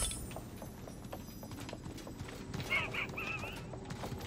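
A horse mount gallops in the video game Realm Royale, with steady clip-clop hoofbeats throughout and a brief neigh partway through, all over constant background noise.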